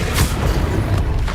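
A fire spell cast in the Hogwarts Legacy video game on PC, a loud booming whoosh with rumbling low-end bursts, dense and continuous over about a second and a half.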